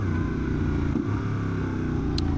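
A motorcycle rumbles steadily close by, its engine note dipping and shifting as it downshifts midway, a loud continuous low-pitched drone with no talk over it.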